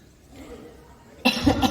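A man coughs in a short, loud burst of several harsh coughs close by, following a moment of near silence.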